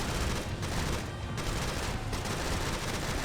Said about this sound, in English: And that's rockets.